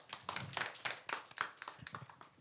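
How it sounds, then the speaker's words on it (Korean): A small audience claps unevenly at a church leadership training session, a quiet scattered patter of hands lasting a couple of seconds. "박수 한번 쳐주실래요?"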